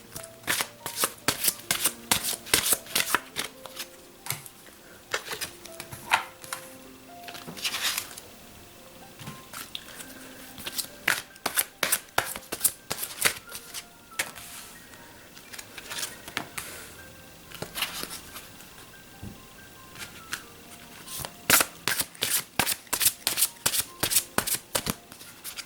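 Tarot cards shuffled for a card reading, repeated rapid riffling bursts of crisp papery flicks in rhythmic clusters, close and fairly loud with brief pauses between rounds.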